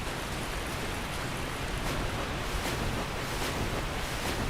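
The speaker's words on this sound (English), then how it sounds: "Let's get past the loud water." Loud, steady rushing water fills a Dark Souls Remastered game scene, a dense continuous roar of surf-like noise with no pauses and no voices.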